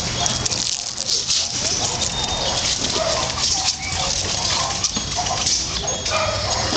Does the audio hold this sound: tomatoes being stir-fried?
no